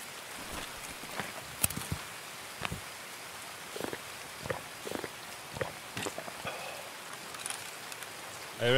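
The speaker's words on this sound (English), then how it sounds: "The rain is lovely." Rain falls steadily in the Escape from Tarkov game world, a soft continuous patter with scattered sharper drop and footstep-like clicks and a few brief louder transients.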